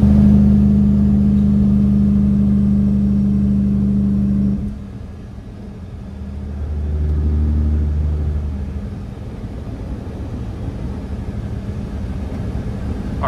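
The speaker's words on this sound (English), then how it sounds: "This truck sounds awesome." Heard from inside the cab at 70 miles an hour, the Caterpillar-powered Western Star 4900 truck gives a steady, deep drone that drops and shifts partway through, then settles back into a smooth, constant rumble.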